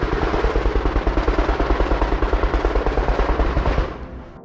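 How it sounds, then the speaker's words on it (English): Rapid, sustained machine gun fire during combat in Ukraine, in close, evenly spaced bursts, loud and continuous, cutting off near the end with a fading echo. "suddenly a rapid series of machine gun fire is heard"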